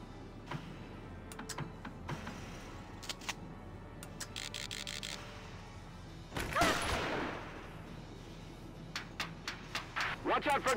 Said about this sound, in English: Gunfire from your flanks.